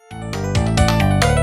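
Cheap old computer playing music, a dense, distorted, buzzy rush of notes that starts suddenly and carries on loud and harsh.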